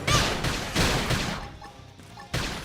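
Gunfire in the video game Xenoblade Chronicles X, a burst of several sharp shots and impacts in quick succession, then a quieter gap before another loud hit.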